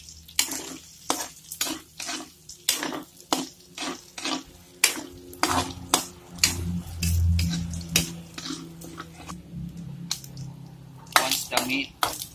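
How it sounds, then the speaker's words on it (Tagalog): A utensil stirs and scrapes string beans and meat frying in cooking oil in a pan, with steady rhythmic strokes over a soft, continuous sizzle. "Stir."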